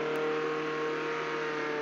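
A stolen car in a prison-escape video game pulls away, its engine a steady synthetic hum with a faint rising rev, brief and close, with no talk.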